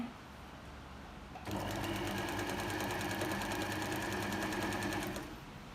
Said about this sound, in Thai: ลองเย็บดูนะ